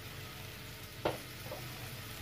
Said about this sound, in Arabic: المية بالبصل تغلي.